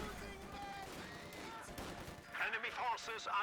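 Artillery barrage and MG42 machine-gun fire in the World War II strategy game Company of Heroes 2, with dense overlapping gunshots and explosions alongside a commentator's talk, and sharper bursts growing louder toward the end.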